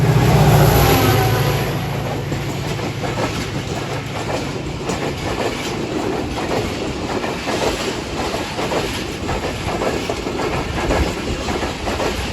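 A passenger express train led by a GMU diesel locomotive passes close by at a railway station, a loud steady rumble with rhythmic clattering wheels and a brief horn-like tone at the start.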